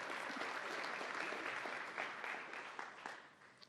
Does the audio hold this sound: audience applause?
yes